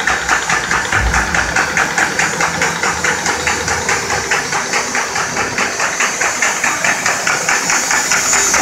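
A 2008 Heidelberg B20 paper folder machine running loud and close, with a fast, even rhythmic clatter over a continuous mechanical hiss.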